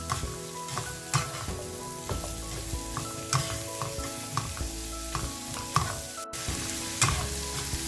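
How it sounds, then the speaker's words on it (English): Vegetables stir-fry on high heat for chilli chicken, a loud hissing sizzle punctuated by rhythmic clanks and scrapes of the spatula against the wok. "So I've stir fried the vegetables for just about 1 minute."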